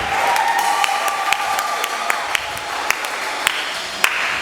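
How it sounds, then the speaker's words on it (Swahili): A church congregation claps together for the Lord during a Christmas vigil service, a crowd of hands beating in a loose rhythm with several sharp, distinct claps ringing out above the fainter mass. "Pigie Bwana makofi na pekee."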